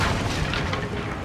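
A Confringo fire-spell blast in Hogwarts Legacy booms out as a short, loud, dense burst of explosive noise that fills the whole moment and fades only slightly.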